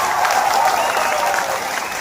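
Steady applause from an audience at a direct selling education institute talk, a dense even patter of clapping held at one loudness for about two seconds with no voices over it.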